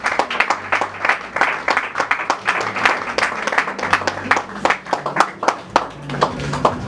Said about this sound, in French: Sous vos applaudissements, nous appelons Monsieur Patient Victor Mwangalwa